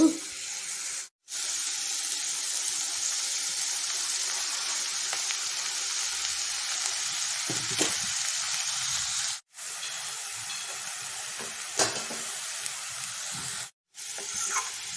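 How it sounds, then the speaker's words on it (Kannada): Corn and capsicum stir-fry in a pan for a Mexican quesadilla filling, giving a continuous sizzling hiss interrupted by a few brief silent cuts. "ಕಾರ್ನ್ ಮತ್ತು ಕ್ಯಾಪ್ಸಿಕಮ್ ಹಾಕ್ಕೊಳ್ಳೋಣ ಇದನ್ನು ಒಂದು ಸುತ್ತು ಹುರ್ಕೋಬೇಕು"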